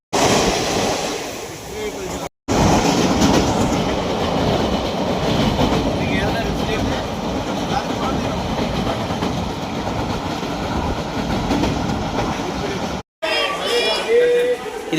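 A moving passenger train on the Prayagraj to Vijayawada route gives a steady, loud rumble and rattle of carriages that runs nearly unbroken, with two brief cuts in the sound and faint voices in the background.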